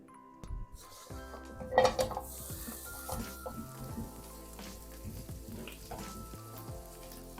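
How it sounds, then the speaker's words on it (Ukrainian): Onion sizzles softly in oil in a hot frying pan while utensils clink and scrape against it now and then. "І тепер відправлю її смажитись. На сковорідку вливаю небагато олії."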